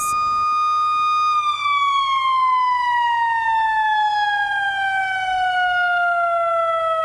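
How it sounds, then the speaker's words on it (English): A loud, steady outdoor emergency warning siren being tested wails continuously, its tone sliding slowly downward as it sustains, close and dominant with nothing else audible. "Emergency management crews spent the day individually testing each one of these sirens to make sure they work"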